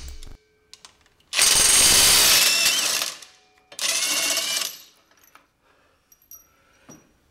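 RIDGID 18V brushless cordless half-inch impact wrench backing out screws, two loud rattling hammering bursts of about one and two seconds, close up, separated by quiet clinks of handled parts.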